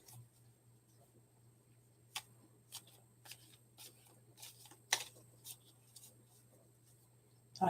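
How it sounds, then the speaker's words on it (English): Tarot cards being shuffled indoors, a series of soft, irregular riffling taps close by over a low steady hum. "I just gotta shuffle."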